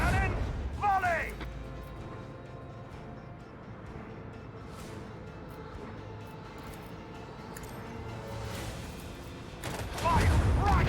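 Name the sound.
starship macro cannons firing a volley in a video game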